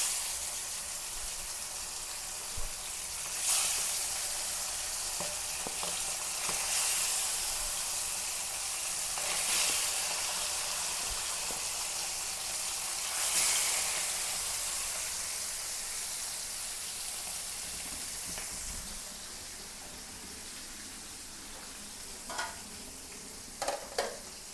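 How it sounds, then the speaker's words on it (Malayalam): Marinated fish frying in hot oil in a pan, a steady close hiss of sizzling broken by bursts of louder spitting every few seconds as the pieces are moved, with no voices. "അപ്പോൾ നമുക്കിതൊന്ന് പൊരിച്ചെടുക്കാം."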